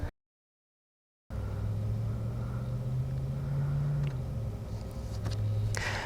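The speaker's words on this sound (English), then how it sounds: "there was some car audio out in the back there" Car noise drifts in from the background as a low, steady engine rumble, faint and distant, after a brief silent gap at the start.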